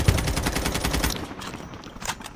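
Rapid automatic gunfire in a multiplayer shooter game on a sniper-focused map, a steady burst of close, loud shots for about a second, then a quieter stretch with a few faint distant shots.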